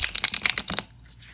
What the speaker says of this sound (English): I love a good deck that I can riffle and bridge.